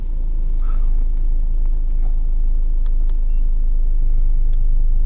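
A car engine gives off a deep, steady rumble nearby that swells slightly as gas is applied, with no voices over it.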